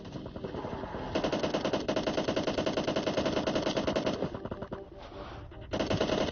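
Rapid automatic gunfire in the PUBG Lite video game, dense bursts of shots rattling almost continuously with a brief lull near the end before another burst resumes, fairly loud and close.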